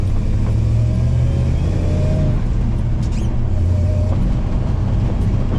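A 1977 Toyota FJ40 Land Cruiser with an aluminum racing fuel tank pulls away in first gear, its engine a steady, loud low rumble heard from inside the cab, with faint rising tones as it revs.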